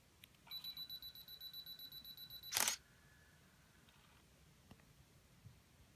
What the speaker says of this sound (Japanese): このリモコンのボタンを押して2秒後にリモコンが、じゃない、シャッターが切れます